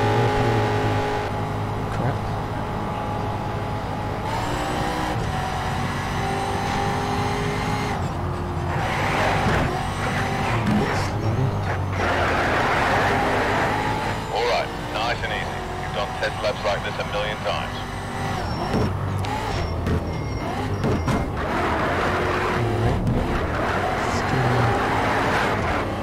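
A race car engine in Need for Speed Shift on Xbox 360 drones steadily through a lap, with rising and falling revs and shifts, under continuous talk.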